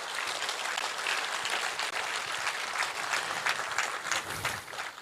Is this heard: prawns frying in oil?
no